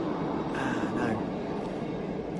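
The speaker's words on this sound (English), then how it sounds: "Right, the train is gone." A passing train rumbles as a broad, steady roar at close range, with a brief higher tonal whine in the middle, filling the short moment without pause.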